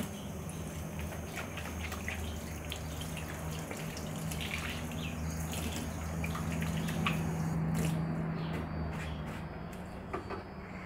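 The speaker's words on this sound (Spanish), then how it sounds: "Al enjabonarte las manos, recuerda cerrar la canilla." A tap runs during handwashing, giving a continuous splash and trickle of water into a sink with small drips and clinks over a low hum, and no talk.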